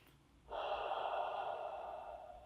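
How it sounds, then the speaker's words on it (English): A single deep, slow inhalation through the nose during meditation, close and breathy, rising sharply and sustained for about two seconds in a quiet room. "close my eyes and take deep breaths in and out like this"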